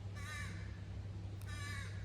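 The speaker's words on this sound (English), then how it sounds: "A couple of crows in the tree there." Two harsh caws from crows in a pine tree in Maine, each a short raspy call a little way off, separated by a pause over a low steady background rumble.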